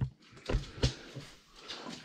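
A dog eats breakfast noisily inside a campervan, with close, wet chomping and a few louder crunching bites spaced unevenly over about two seconds.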